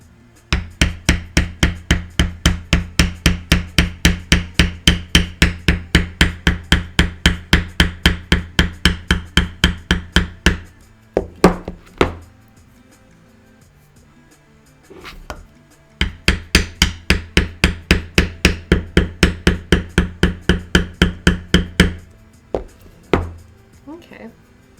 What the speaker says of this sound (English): the tap from the hammer is what is scooting the tool along as I work